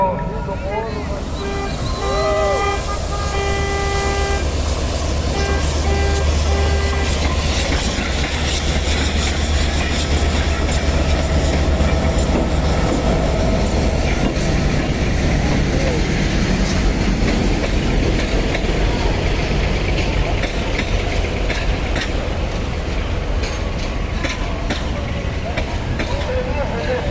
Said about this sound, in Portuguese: com o trem da Maria, com o trem da Caline passando por aqui